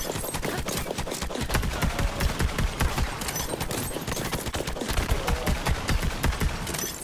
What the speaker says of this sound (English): his gunshots hurt me, I tell you that